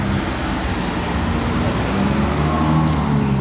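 Steady broadband roar of a red French-plated Renault 5 Turbo engine amid passing traffic noise, continuous and fairly loud throughout with no clear revving peaks.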